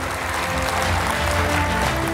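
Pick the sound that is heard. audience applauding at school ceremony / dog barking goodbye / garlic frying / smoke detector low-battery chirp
audience applauding at school ceremony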